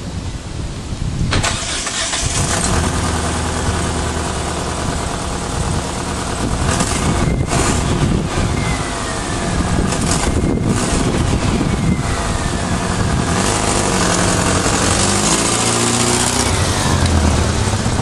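An Eagle Summit car with a blown head gasket and poor compression cranks and starts, then idles roughly and loudly up close for a long stretch, its engine note wavering unevenly.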